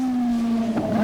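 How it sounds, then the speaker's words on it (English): Mazda 787B rotary-engined race car in the racing game rFactor, its engine holding a steady, loud high-pitched drone with a slight pitch dip partway through, heard alone. "787B cars were obsessively loud and fast."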